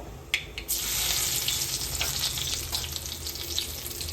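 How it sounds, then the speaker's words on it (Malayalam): Mustard seeds and curry leaves hit hot oil for wheat upma, bursting into a bright, close, continuous sizzle with a few sharp pops at the start and light spattering throughout. "നമ്മൾ കടുക് ഇടാൻ പോവാണ് വേപ്പല ഇട്ട് കൊടുക്കുക"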